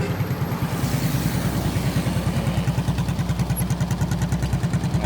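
A motorcycle rides at night along a smoke-filled street in Duri, Riau, its engine thrumming in a steady, regular pulse close to the listener, with faint rattling and no voices.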